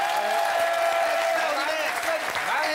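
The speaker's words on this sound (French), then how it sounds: "sous les applaudissements du public" Studio audience applauds a guest being welcomed on a French comedy television show, a steady, dense wash of clapping that fills the whole stretch, with a faint tonal hum running underneath.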